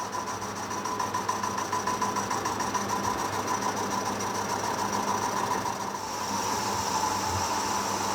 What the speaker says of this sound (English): It's really hard to control this drill to keep it